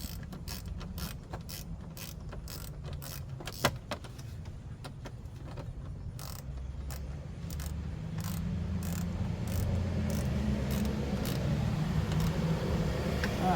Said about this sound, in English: we need our 7mm socket. Get to put that in, tighten it up.